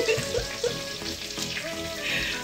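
Mushroom fried rice crisping without oil in a Saladmaster pan, a short close sizzle with soft crackles and light stirring scrapes, no talk over it.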